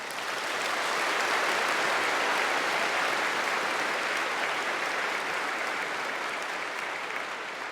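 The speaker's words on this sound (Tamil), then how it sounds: "என்னுடைய தமிழ் கேட்டு இப்படி கைத்தட்டுறீங்கன்னு நான் நினச்சிக்கிறேன்." A large audience at a talk claps in a thick, sustained wash of applause that stays loud and even before easing slightly.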